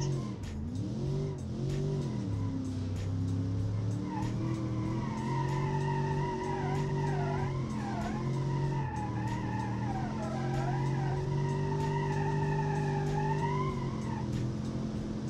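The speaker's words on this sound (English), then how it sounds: "Alright, drifting, which is really weird for these cars, but it did." A car with a 4-speed automatic slides sideways in the BeamNG driving game, its engine droning and shifting pitch while tires squeal in long wavering howls, loud and continuous with no talk.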